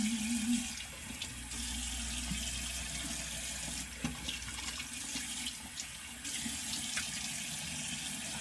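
Tap water runs steadily into a sink during rinsing in a morning skin-care routine, a continuous close wash of flowing water that holds for the whole stretch with small splashes and shifts in flow.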